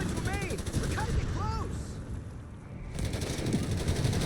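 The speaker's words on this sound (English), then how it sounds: "A lot of mortar fire." In a Company of Heroes 3 match, Afrika Korps against US Forces, mortar fire thuds and bursts amid rattling gunfire, a dense battle din with a voice speaking over it.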